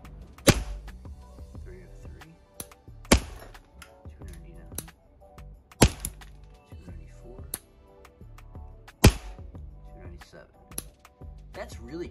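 An Action Army AAP-01 airsoft pistol with a 129 mm inner barrel fires 0.3 gram BBs, four sharp, loud cracks spaced a few seconds apart, with quieter clicking and handling noises in between.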